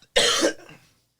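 A single harsh, close cough bursts out sharply, followed by a brief fading rasp and then quiet.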